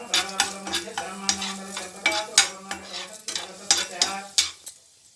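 Urad dal, fenugreek, mustard seeds, cumin and a dried red chili fry in hot oil in a pan, a close sizzle broken by repeated scraping stirs of a spoon at an uneven rhythm.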